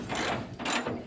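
A hand ratchet backs out the hood bolts on a 1973 Chevy Chevelle SS 454 in two quick bursts of rapid, close clicking, with no talk.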